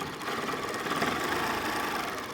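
A sewing machine stitches along the inner border of a quilt at roughly 11 or 12 stitches per inch, giving a steady, close, continuous mechanical hum with no talk.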